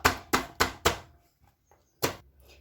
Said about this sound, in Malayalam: അപ്പം നമ്മൾ ചെറിയ ഉള്ളി തൊലിച്ച് വെച്ചതാണ് അതൊന്ന് ചതച്ചെടുക്കാനാണ്